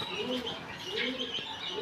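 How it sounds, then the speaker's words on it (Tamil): Pigeon cooing at a pigeon-rearing spot where a parent bird tends chicks, soft repeated low coos in a steady rhythm with faint chirps and light background noise, fairly close. "அது அங்கே ஒரு புறா உட்காந்துருக்கு பார்த்தீங்களா"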